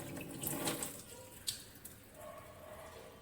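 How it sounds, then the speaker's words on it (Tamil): Raw mutton liver rinsed under tap water, faint splashing and running water with a few brief drips and squishes, close and quiet. "இப்படி பச்சை தண்ணி ஊற்றி ஃபஸ்ட்டு நல்லா அப்படி ஒரு கழுவு கழுவிருங்க"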